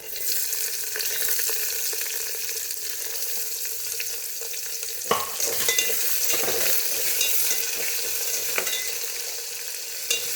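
Onion sautéing in a bronze pot for rice upma, a steady broadband sizzle with a spoon stirring and scraping throughout, including a sharper clank about halfway through, close and fairly loud with no talking.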